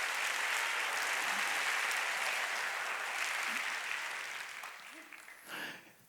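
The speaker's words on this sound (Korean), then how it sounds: "박수 치려면 세게 치고" A church congregation at a Sunday worship service claps together in a loud, dense burst that gradually fades toward the end, with a faint voice emerging as the applause dies down.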